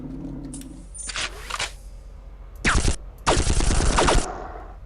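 Shard weapon bolts fire in Unreal II: The Awakening's training range, three sharp bright bursts with ricocheting clatter, the last two long and dense, over a low steady hum.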